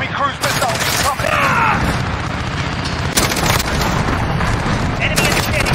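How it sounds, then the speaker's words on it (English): Modern Warfare multiplayer match with cruise missile strikes going off as loud, rumbling booms mixed with gunfire and voiced game callouts, a dense continuous barrage with sharp bursts throughout. "Enemy cruise missile incoming!"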